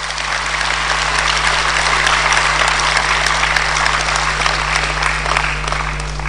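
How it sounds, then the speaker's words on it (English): Sustained, dense applause from the audience at the NDC national chairman's True State of the Nation Address, a steady wash of many hands clapping at even loudness for the whole stretch with no voices standing out. "Let's give our national chairman another round of applause"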